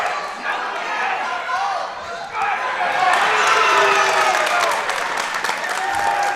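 A high school wrestling crowd at a dual meet claps and cheers, a broad wash of applause and shouts that swells louder partway through, with people talking over it.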